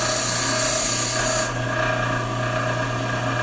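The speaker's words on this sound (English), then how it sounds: "I can take that facet out if I grind it for a little longer on one spot" A steel lathe bit held against a bench grinder, a continuous harsh rasping grind over a steady motor hum that eases slightly partway through, loud and close.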